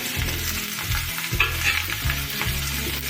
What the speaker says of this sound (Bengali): এবারে আমি কেটে রাখা কুমড়োগুলো দিয়ে দেবো।